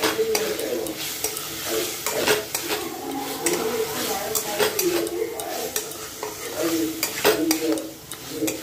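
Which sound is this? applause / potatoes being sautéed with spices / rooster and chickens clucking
potatoes being sautéed with spices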